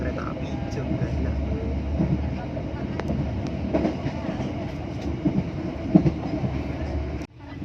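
The Sritanjung passenger train runs on the Banyuwangi–Jogja line in Indonesia, heard from inside as a continuous loud rumble with rhythmic wheel clatter over the rails. The noise cuts off abruptly just before the end.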